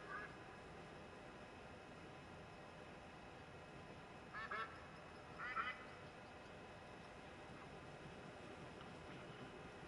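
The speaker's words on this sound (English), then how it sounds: "So where's these ducks at you can hear?" Two short, faint duck quacks sound in quick succession over a steady ambient wash. They come from the background wildlife of a Scotland hunting map in a hunting video game, and nothing else stands out.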